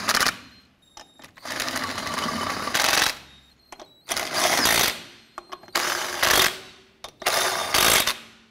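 Lug nuts on a 1993-1997 Ford Ranger front wheel are run down by a power tool in repeated loud bursts of whirring and rattling, separated by short pauses.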